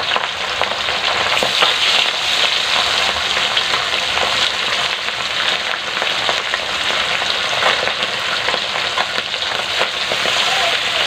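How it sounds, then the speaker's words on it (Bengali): Pabda fish coated in salt and turmeric fries in hot oil, giving a loud, dense, continuous sizzle and spatter that stays steady and close throughout. "নুন হলুদ মাখিয়ে পাবদা মাছটাকে ভেজে নিচ্ছি, খুব ফুটছে মাছটা"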